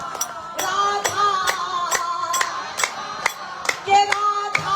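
Steady rhythmic hand clapping at a devotional kirtan in GTB Nagar, sharp evenly spaced claps ringing out clearly with sustained singing beneath them.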